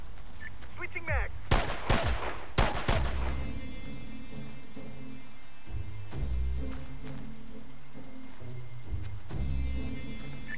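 Gunfire in the SOCOM U.S. Navy Seals video game on PSP: a rapid cluster of loud shots early on, then scattered single bursts over low rumbling ambience and a steady engine-like drone.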